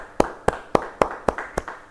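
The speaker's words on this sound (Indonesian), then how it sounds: "Beri tepuk tangan bagi Dia." Six claps sound in an even rhythm, about a quarter second apart, from a congregation at a church Bible study. The claps are sharp, close and moderately loud, with no talk over them.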